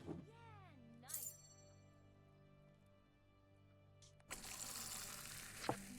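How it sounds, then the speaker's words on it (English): A pint of beer is drawn from a tavern tap in Fable 2, with a chiming game tone and swooping notes, a quiet stretch, then a loud foamy pour closing it out; a voice talks over the start. "A perfect pouring."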